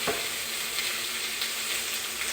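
Red bell peppers fry in hot oil in a pan, giving a steady, close, even sizzle that hisses continuously without pause, and no one speaks over it.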